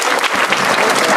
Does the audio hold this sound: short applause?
yes